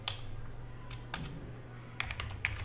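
Quick typing on a computer keyboard, a few short clusters of crisp key clicks over a faint low hum, close and quiet.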